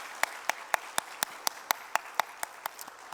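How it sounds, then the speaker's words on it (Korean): A church youth congregation claps in unison at a worship service, sharp synchronized beats landing evenly about four times a second, crisp and fairly close, with a few looser claps at the end. "다시 한번 영광의 박수 올려드립니다"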